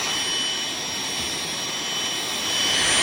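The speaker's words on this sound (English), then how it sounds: "I wouldn't be vacuuming out sawdust." A vacuum cleaner sucks up sawdust inside a Shasta camper being refitted, a loud, constant whining roar with a thin high whistle running unbroken throughout.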